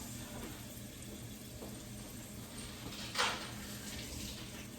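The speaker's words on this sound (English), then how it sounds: "The rosemary is getting brown, so we'll try to take out the good pieces. Rinse it off." Running water from a faucet rinses browning sprigs of rosemary while preparing lamb chops, a faint, steady stream with a soft splash midway and no speech.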